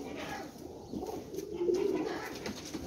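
Pigeons in a fancier's loft, strong flying birds, give low burbling coos that swell midway, nearby and moderately loud, over a soft background hum with little talk.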